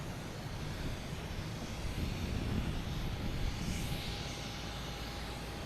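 An Air France airplane departs Boston Logan Airport with a constant broad engine roar from a distance, steady and loud throughout and mixed with wind noise.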